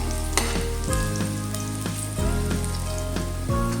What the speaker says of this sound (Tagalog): I-golden brown po muna natin sa mga kapibers.